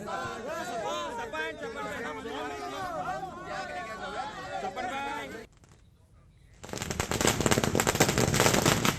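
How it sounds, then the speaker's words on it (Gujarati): Congress party workers in Gujarat setting off firecrackers to celebrate a candidate announcement: crowd chatter and voices first, then after a brief lull a loud, dense, continuous burst of rapid crackling explosions. "કોંગ્રેસ કાર્યકર્તાઓએ ફટાકડા ફોડીને ઉજવણી કરી"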